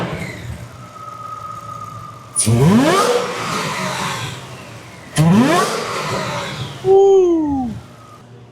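Ford Mustang Dark Horse with a Whipple supercharger roars through three loud, close revving bursts, each a rising engine note laced with supercharger whine, separated by a quieter steady idle; a voice briefly exclaims.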